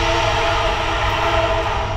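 A train rumbles past close by, a steady, loud, broadband roar with low-end churn that holds without a break for two seconds.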